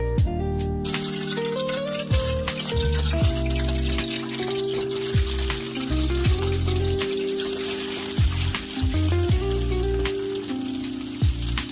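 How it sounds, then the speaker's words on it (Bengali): Salted boiled eggs sizzle lightly in oil in a wok for an egg malai masala, a continuous crackling fry heard beneath music with occasional sharper pops. "মালাই মশলার মেইন ইনগ্রেডিয়েন্টস ডিম, যেটা আমি সেদ্ধ করে একটু নুন মাখিয়ে রেখেছি, ভেজে নেবো হালকা করে"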